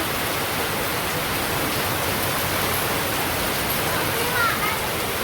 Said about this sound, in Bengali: হঠাৎ করে এত জোরে বৃষ্টি নামছে